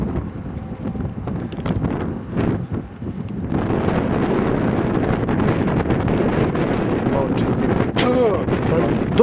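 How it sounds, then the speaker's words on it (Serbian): Wind buffets the microphone during a bicycle ride on a Belgrade–Smederevo–Kovin–Pančevo route, a few scattered knocks at first, then a steady loud roar from a third of the way in to the end. "Dobro je što vetar duva."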